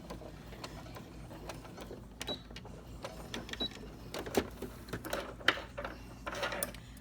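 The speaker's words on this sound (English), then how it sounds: "I just want you to see me quilting them" A sewing machine quilting fabric on vintage parasol ladies quilt blocks, giving a soft mechanical whir broken by fast clicking stitch bursts that grow busier toward the end, close and fairly quiet with no talking.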